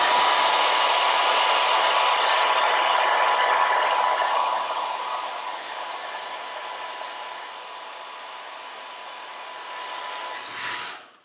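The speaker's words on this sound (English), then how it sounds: "Use a blow dryer." A blow dryer running on its cool setting, loud and close with a steady airy whoosh and whine, easing slightly in level partway through before clicking off at the end.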